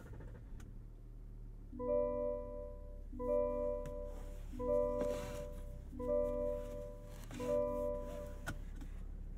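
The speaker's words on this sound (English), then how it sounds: "A lot of ignition noise and then the chimes take over." Chimes inside a 2022 Cadillac Escalade diesel SUV cabin after ignition: a repeating tonal chime pattern sounds five times at steady intervals over a low idle hum, fairly loud and close.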